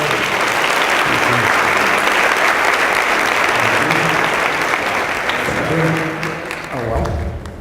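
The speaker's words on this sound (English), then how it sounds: "I see applause for." Loud, sustained applause from an audience at a talk on teaching, a dense wall of clapping that holds steady and then thins slightly toward the end, with a few voices faintly audible beneath it.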